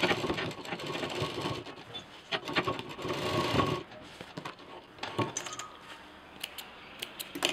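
A sewing machine stitches a double zipper pouch, whirring steadily through the first few seconds, then continuing in shorter, quieter stop-start runs with small mechanical clicks.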